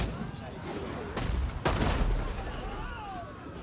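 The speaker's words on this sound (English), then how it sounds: "my ballista are getting lots of shots in here." Ballista siege engines fire exploding shots in a Total War Rome 2 battle, heard as booming blasts over a dense rumble of combat noise, with a couple of heavier impacts in the middle.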